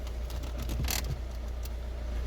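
A car handbrake lever ratchets in a short burst of clicks inside the vehicle during a health check, faint over a steady low engine hum.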